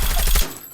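Rapid automatic fire from the mythic Grau rifle in Call of Duty, a dense loud burst of shots that cuts off abruptly and leaves a short fading tail.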